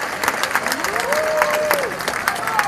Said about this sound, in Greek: Θέλω ένα πολύ θερμό χειροκρότημα για τα παιδιά